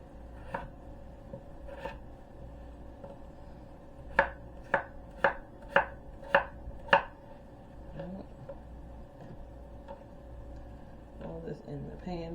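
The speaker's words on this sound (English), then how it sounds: "Alright, and we're going to cube them up" A knife chops turkey tenderloins into cubes on a cutting board. Six sharp, evenly spaced strikes land in a quick steady rhythm near the middle, with a few softer cuts before and after and a faint background hum.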